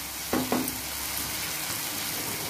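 Steady sizzle of masala frying in oil for paneer ghotala, with a couple of brief clinks of a utensil stirring the pan early on, the hiss continuing evenly throughout.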